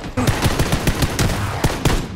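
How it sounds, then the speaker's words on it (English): Rapid bursts of automatic gunfire from a PUBG match, loud and close, with shots cracking in quick irregular clusters across the whole span and no voices over them. "Somebody's shooting us!"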